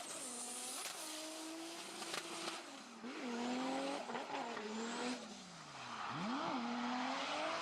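Naoki Nakamura's drift car screams loudly, its engine revving up and down in sharp rising and falling sweeps, with tire squeal and skidding mixed in as it slides through continuous high-revving passes.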